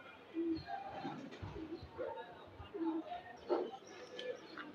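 Many pigeons in a dovecote give low, soft repeated coos, rising and falling close by, while someone speaks over them intermittently.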